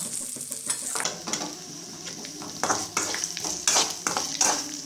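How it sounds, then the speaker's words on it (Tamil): A large chopped onion sizzles in a hot pan, stir-fried until golden, while a utensil scrapes and stirs in quick, repeated strokes, close and fairly loud. "வெங்காயத்தை பொன்னிறமாக வர வரைக்கும் வதக்கிக்கோங்க"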